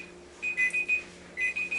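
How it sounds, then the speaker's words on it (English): Alarm clocks going off in a home kitchen, two bursts of rapid high-pitched electronic beeps, four or five pulses each with a short pause between, clear and fairly close. "got all kinds of alarms going off"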